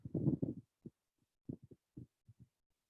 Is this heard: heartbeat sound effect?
yes